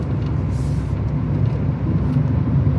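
A $200 Honda Civic VTEC with a manual transmission drives along, its engine a steady low drone mixed with road rumble, heard from inside the car without any talking.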